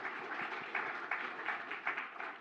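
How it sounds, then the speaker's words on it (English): Audience members at a Litecoin summit closing panel clap, a faint but steady patter of applause sounding somewhat distant throughout. "Another applause."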